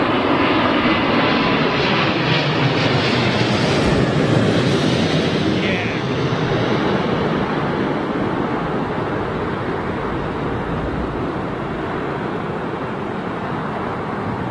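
Airliner roars loudly and steadily throughout while arriving on runway 27L at London Heathrow, a broad jet rumble with a faint whining sweep early on; voices murmur faintly beneath.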